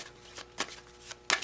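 Tarot cards being shuffled and handled, several short papery riffles and slaps spread across a second and a half, close up and fairly quiet, with no voice.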